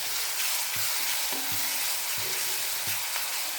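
Cluster beans fry in oil with a continuous, close crackling sizzle, broken by a few soft knocks of stirring, and no one talks.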